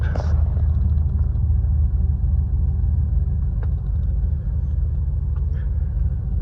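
A 1986 Cadillac Coupe DeVille's engine idles steadily after starting, a loud, even low rumble with a brief higher mechanical whine at the start and small clicks later.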